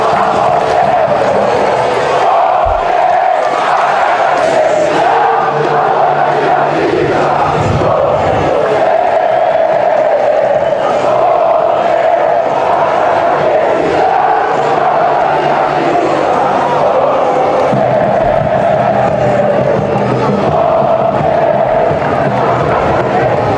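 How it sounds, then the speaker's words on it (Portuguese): Football fans in a stadium during a Campeonato Paulista match keep up a dense, continuous roar of crowd cheering and chanting for over twenty seconds, loud and far-reaching, with a faint voice now and then. "Vamos ouvir a torcida."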